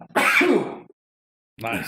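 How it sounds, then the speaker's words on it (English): A single sharp sneeze bursts out close to the microphone, followed by a short pause and a brief spoken word. "I'm going to sneeze."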